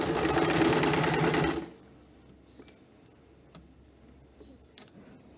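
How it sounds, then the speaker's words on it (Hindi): A sewing machine stitching Velcro runs in a fast, loud, steady whir for under two seconds, then stops, leaving quiet room tone with a few faint clicks. "वेलक्रो की सिलाई करने के लिए इसके चारों तरफ सिलाई करनी है, तो बिल्कुल एज पे स्टिच आनी चाहिए।"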